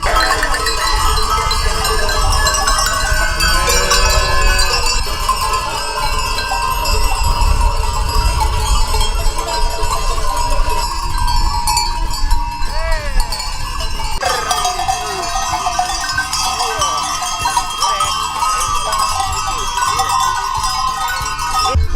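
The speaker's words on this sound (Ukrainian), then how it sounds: "Мелодійний передзвін переплітається з беканням тварин." Livestock bells chiming in a dense, continuous jangle while sheep and goats bleat intermittently among them, in a Hutsul mountain setting of the Carpathians; steady and fairly loud throughout.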